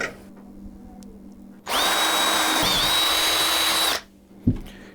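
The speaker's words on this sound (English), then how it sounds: "we need to re-drill our hole." A power drill whirs loudly at steady speed for about two seconds, re-drilling a hole in a Honda Pilot door check strap, spinning up and winding down, followed by a brief clunk.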